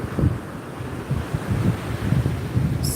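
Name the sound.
choppy ocean waves on Florida beach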